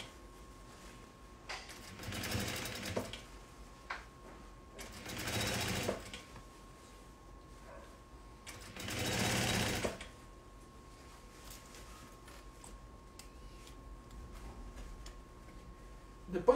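A sewing machine stitches a seam on a small fabric bag in several separate bursts of rapid, whirring needle motion, close and fairly loud, with quiet pauses and handling between runs.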